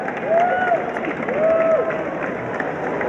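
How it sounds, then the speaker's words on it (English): Crowd cheering at Royal Ascot on Gold Cup day, a broad sustained roar of many voices with whistles rising over it, steady and fairly loud throughout the few seconds. "That's a big cheer. It is a wonderful cheer."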